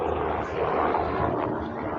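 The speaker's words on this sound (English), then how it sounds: "we got a helicopter going right over" Helicopter passing overhead outdoors, a steady broad rotor-and-engine rumble that stays moderately loud throughout without any voices.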